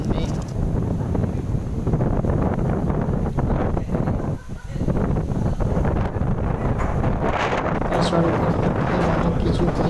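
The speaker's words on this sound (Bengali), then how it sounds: "কি শব্দ বাতাসে পুরো একদম যেন কালো অন্ধকার হয়ে আসছে" Strong wind from a Kalbaishakhi storm roars steadily against the microphone with constant buffeting gusts and a brief lull midway, while a voice talks faintly beneath it.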